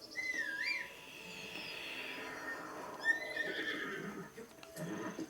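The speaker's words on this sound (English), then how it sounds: "go ahead and call your horse." A horse in the Zelda Breath of the Wild video game gives a clear whinny at the start, followed by a second neigh midway over soft game ambience and faint hoof sounds.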